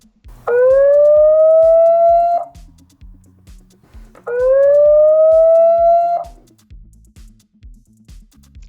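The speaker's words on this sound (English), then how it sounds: "You also have the option to have an alarm, which will test that out now." ANNKE Crater 2 WiFi pan-tilt security camera sounding its alarm siren: two loud, sustained rising electronic wails, each about two seconds long, separated by a short gap, with faint clicking underneath.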